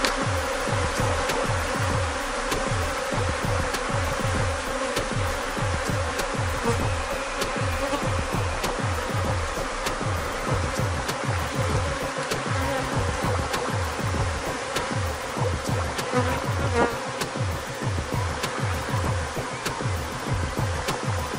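Honeybees buzzing at an open brood frame of a beehive, a dense, steady hum with pulsing wingbeat textures that continue close and loud for the whole stretch, with no talk.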